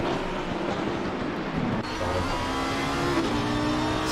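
Racing cars, including a Lamborghini, in the Pan Am Racing PC game at the Zolder circuit. Engines hold a steady, loud drone, with a shift in pitch midway as the cars carry on through the lap.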